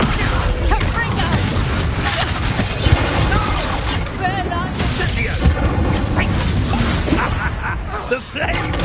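A Confringo fire-blast spell goes off in Hogwarts Legacy amid a busy battle, with booms and crashes layered over dense game noise and character voices talking throughout.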